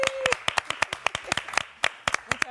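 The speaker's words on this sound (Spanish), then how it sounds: "a quien recibimos con un fuerte aplauso" Scattered hand clapping from an audience welcoming author Ana Fornaro, with sharp individual claps in an uneven rhythm at close range and a brief voice at the start.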